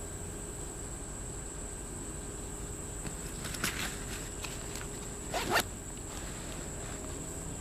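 A zipper on a Maxpedition Sabercat bag compartment is pulled open in two quick bursts, close by, against a steady hissy background with no talking.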